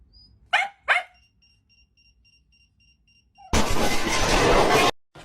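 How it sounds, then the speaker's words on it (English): A husky wearing a bark collar gives two quick barks, a thin tone follows, then a long harsh loud blast of noise near the end. "Testing out my dog's barking collar."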